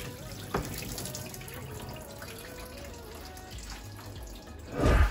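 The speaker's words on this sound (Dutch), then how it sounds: "Na 3 minuutjes ga ik het weer afgieten" Water from boiled vegetables pours into a kitchen sink, a continuous splashing stream close by, ending in a louder gush and rush as the pan empties.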